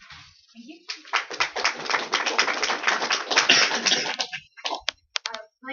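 A crowd claps in a burst of applause that swells, holds, then thins out into a few scattered final claps.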